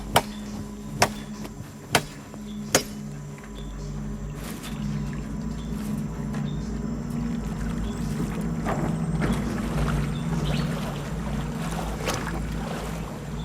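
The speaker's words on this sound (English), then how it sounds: "when I'm hitting the branch with my machete makes a really deep pulsing sound" Four sharp, deep chopping thwacks of a machete striking a tree branch in quick succession in a Central American jungle, each ringing out briefly, followed by a steady boat-engine drone and water noise.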